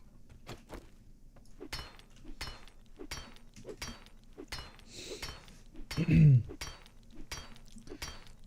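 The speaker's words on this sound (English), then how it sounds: "You heard glass breaking." In the video game 7 Days to Die, glass breaks with a short crash and clinking shards, preceded by repeated sharp knocks and small impacts in a quiet interior.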